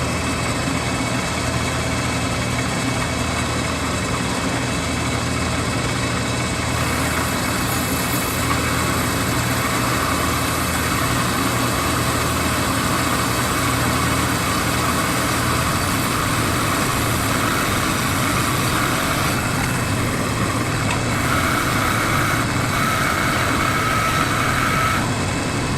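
A metal lathe drills a fairly large diameter hole through stock, giving a steady, loud mechanical hum and whine that runs unbroken throughout, with no talking.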